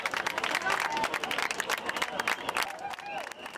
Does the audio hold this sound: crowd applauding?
yes